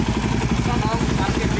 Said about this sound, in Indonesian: Ini dia DRZ 400, lansiran Suzuki, punyanya Baroka Garage.